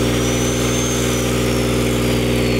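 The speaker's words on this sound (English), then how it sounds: "you'll notice the generator stays at 2400 RPM" A Trailblazer 325 diesel welder generator runs at a steady 2400 RPM on a job site, giving a loud, constant, close engine drone with a low rumbling hum throughout and no voices.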